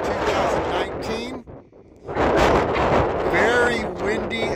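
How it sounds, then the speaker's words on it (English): Strong, cold wind buffets the microphone in loud, broadband gusts at about 2,500 feet in Valley of Fire State Park, Nevada, briefly easing before roaring back, with a voice talking over it. "Very windy and cold, 33 degrees."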